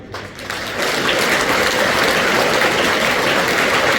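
A school ceremony audience breaks into dense, sustained applause at a poet's motivational talk, loud and close, swelling after a brief quieter start and holding steady.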